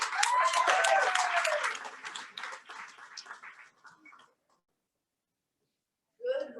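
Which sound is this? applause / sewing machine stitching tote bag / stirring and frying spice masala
applause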